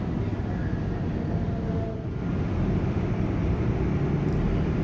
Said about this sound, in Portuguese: Aqui, pessoal, o metrô agora está saindo da estação 1º de maio.